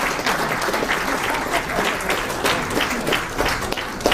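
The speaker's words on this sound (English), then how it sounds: "A round of applause, please, to His Excellency Dr. Aukot" A round of applause for Dr. Ekuru Aukot at the Chevening Kenya Alumni Network launch, a dense, steady clapping from the gathered audience lasting the whole stretch with no speech over it.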